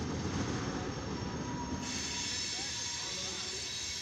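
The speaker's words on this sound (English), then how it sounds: "This has been a eastbound to a southbound CSX mixed freight coil train." Eastbound CSX mixed freight coil train passing a railroad crossing in Deshler, a continuous loud rolling rumble with wheel hiss and squeal, close by.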